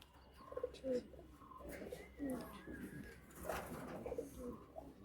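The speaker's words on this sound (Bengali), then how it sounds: "এগুলো আন্ধ্রা পায়রা তো" Andhra pigeons cooing softly in low, repeated throaty calls amid a quiet, noisy room background, with occasional faint voices nearby.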